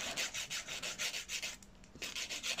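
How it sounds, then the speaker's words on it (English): Quiet, rhythmic rasping as a worn 180 grit hand file is drawn back and forth over nail tips, about a dozen even strokes with a brief pause partway through. "So I'm just going to do that gently with this hand file, because it is a 180 grit hand file"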